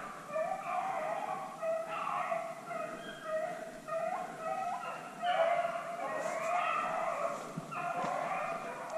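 Beagles baying while chasing a rabbit during a hunt, a pack of hounds giving overlapping rhythmic bawls and yips that carry steadily from a moderate distance, with no talk over them.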